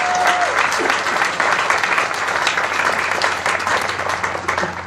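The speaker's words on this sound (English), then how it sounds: "I think we owe another round of applause to both Trish and to Maddie." Audience at the Endicott College Class of 2022 commencement ceremony applauds in a dense, sustained wash of clapping that holds for several seconds.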